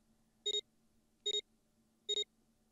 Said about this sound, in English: With a soft electronic noise,